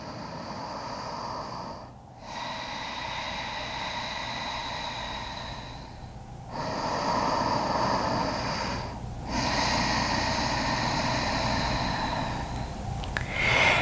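Several slow Ujjayi breaths in and out through the nose, each a long hissing rush with a throaty constriction, separated by brief pauses, close to the mic with no talking.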